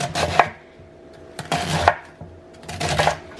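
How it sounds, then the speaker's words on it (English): A knife chops tender cooked slow-cooker meat into little strips on a cutting board, three close bursts of rapid chopping separated by short pauses, with no talking. "and then I cut it into little strips, and it just starts falling apart"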